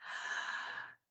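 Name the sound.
breathing in during breath work exercise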